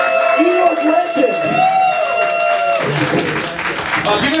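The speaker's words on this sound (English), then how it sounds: "Can we give a big round of applause for Willie Zabar, everybody?" Crowd at a comedy open mic clapping and cheering loudly and continuously, with a voice calling out over the noise near the end.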